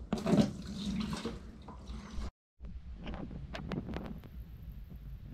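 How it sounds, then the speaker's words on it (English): Fish tank water is siphoned through a tube into a bucket, a steady trickling and splashing pour that stops briefly, then resumes with lighter drips and gurgles. "I'm going to suck up, and I'm going to fill up my bucket of water quickly"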